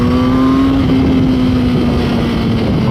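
A Dodge Challenger passing close by, a loud, steady engine drone with a low hum that dips slightly in pitch as it goes past.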